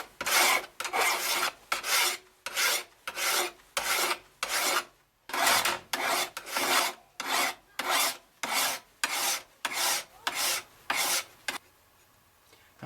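A hand file rasps along the underside of a machete blade edge in steady, evenly spaced back-and-forth strokes, about a dozen close, clear passes with a brief pause midway and a quiet stop at the end.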